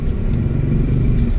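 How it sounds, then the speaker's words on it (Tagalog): Low, steady engine rumble of morning road traffic in the Philippines, close and continuous, like being inside or beside moving vehicles. "Traffic na mga kabayan pag pag umaga na."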